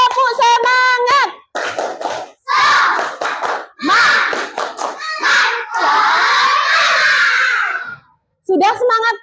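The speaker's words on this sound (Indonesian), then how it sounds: "Bisa tepuk semangat? Bisa. Tepuk semangat." A group of children in a classroom perform a rhythmic clapping cheer, loud and close, with bursts of sharp claps mixed into their shouted chanting and excited voices.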